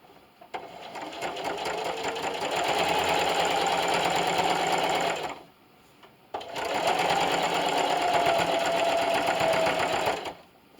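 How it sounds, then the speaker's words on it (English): A sewing machine straight-stitches in the ditch along the seams of a mirrored heart table runner, two steady runs of fast, even whirring separated by a short pause, close and without talk. "I'm just going to stitch in the ditch down all my seams"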